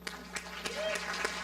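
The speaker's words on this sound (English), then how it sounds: "Because you deserve another round of applause." Applause from a convocation audience for honored students, a brief stretch of scattered, somewhat distant clapping in a large hall, with a voice faintly heard.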